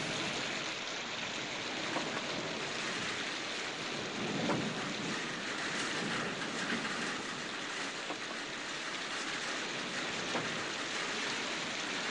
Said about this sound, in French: On n'a jamais vu une tempête pareille.